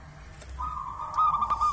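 A local wild-caught perkutut, or zebra dove, gives a short soft cooing call, a brief tonal phrase close by over a faint background.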